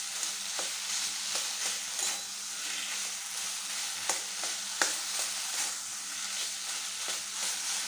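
Taro stems stir-fried dry in a pan, a steady close hiss and sizzle broken by frequent spatula scrapes and clicks throughout.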